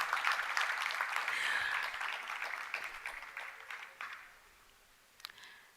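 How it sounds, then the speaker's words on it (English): An audience at a maritime university industry conference applauds, a sustained, fairly faint wash of many hands that gradually fades out. "ladies and gentlemen, a round of applause"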